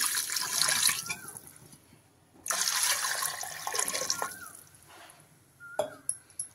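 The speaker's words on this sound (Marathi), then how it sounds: "आता आपण ह्याच्यामध्ये पाणी टाकून घेऊ" Water pours in two hissing streams into a pot of dal palak, with a short pause between, followed by a few clinks of the pot or a utensil.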